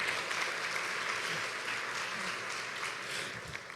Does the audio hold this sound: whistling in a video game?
no